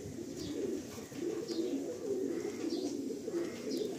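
Pigeons of an Andhra breed coo steadily in a loft, a soft low murmur running through the full four seconds, with faint bird chirps above it and no talk.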